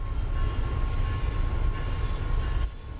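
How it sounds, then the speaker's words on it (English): Brakes on an HSP46 locomotive in Train Sim World 5 squeal faintly while releasing at a station, a thin steady whine over a low rumbling hum that drops off near the end. "You can hear the brakes are still in the process of coming off, so they're squealing away"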